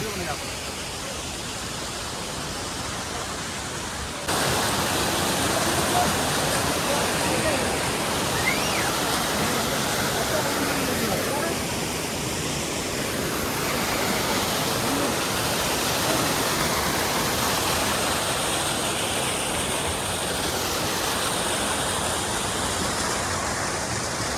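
A mountain stream near Panchtarni on the Amarnath route rushes steadily, close and loud, its broad watery roar continuing without a break from start to finish.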